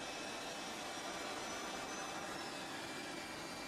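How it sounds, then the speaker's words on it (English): Aircraft engine 2 starting up on an airliner at the gate. The sound is a continuous broadband jet roar with a steady, unbroken hiss and whine, loud and close, with no speech over it. "all doors and hatches are closed and you're clear to start engine 2"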